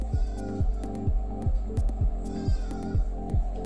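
A mixer grinder churns a coarse mix of cardamom and roasted pearl millet flour with sugar, giving a steady rhythmic throbbing hum with regular thumps about every half second, close and loud, with no voices.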